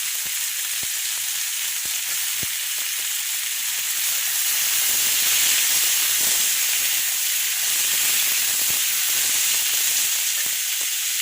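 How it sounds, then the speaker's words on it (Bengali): Steady hissing sizzle of onions and potatoes frying together in a hot pan, continuous and fairly loud with faint crackles throughout, no voices. "পেঁয়াজ আলু একসঙ্গে আমি ভেজে নেব"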